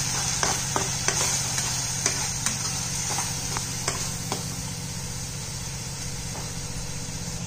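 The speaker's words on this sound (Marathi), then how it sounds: "तो चांगला तेलामध्ये परतून घ्यायचा, तेल सुटेपर्यंत" Ground masala frying in oil in a pan, a constant bright sizzle with repeated scraping clicks of a spoon stirring, close and steady without talk.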